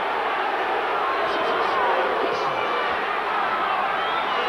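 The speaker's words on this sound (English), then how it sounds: "And you can hear the cheers from the crowd." A boxing crowd at a 1993 heavyweight fight cheers and roars in a steady, dense wash of voices, with a few louder swells rising out of the noise throughout.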